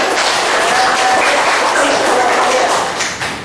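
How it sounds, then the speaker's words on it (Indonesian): Elementary school pupils in a classroom clap together for a classmate, loud close-up applause with some voices mixed in, tapering off near the end. "Beri tepuk tangan."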